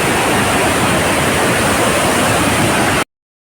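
Devkund Waterfall in Similipal National Park, Odisha, pours from a great height in a loud, steady roar of crashing water that fills the whole stretch with broadband rush, unbroken until it cuts off abruptly.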